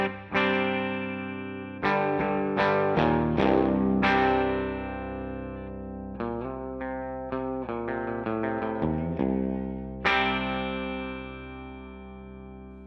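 Clean electric guitar tone from Bare Knuckle Holy Diver pickups, ringing chords and single notes picked in loose phrases with sustained decays, heard alone with no talking.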